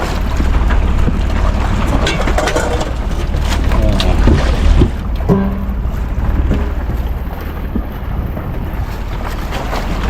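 Loud wind buffeting over the low drone of two arriving boats' engines on the water, with splashing and a brief motor tone midway.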